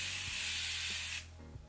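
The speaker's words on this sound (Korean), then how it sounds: "되게 곱게 분사돼가지고 메이크업 하기 전에 그냥 간단하게 뭔가 약간 피부를 시원하게 딱 깨워주는 느낌?" Uriage thermal spring water mist sprays from a can in one close, fine, steady hiss that lasts just over a second and then cuts off.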